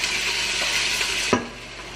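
Chopped onion sautéing in olive oil for a roasted cauliflower soup gives a steady, close sizzle, and a single sharp clink of a pan or utensil cuts in just before the hiss eases slightly.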